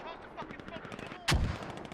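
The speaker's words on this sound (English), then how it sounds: "Oh, and these mortars now." Mortar fire in a tactical multiplayer shooter: a single sharp, loud blast with a heavy low thump lands partway through, after a stretch of scattered, softer gunfire and faint talk.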